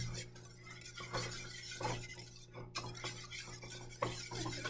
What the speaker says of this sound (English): you be careful when you're whisking because, right, it could definitely get on you, burn you, fly out of the pan.